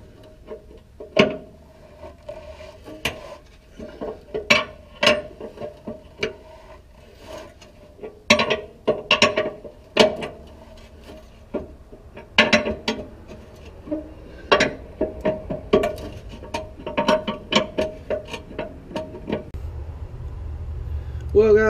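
A wrench works a spinning stud beneath a semi trailer air bag: a steady string of sharp metallic ticks and clanks, close and irregular, with a voice talking at times.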